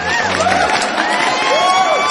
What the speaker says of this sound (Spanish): le vamos a dar las gracias a Marilyn con este maravilloso aplauso, que es el segundo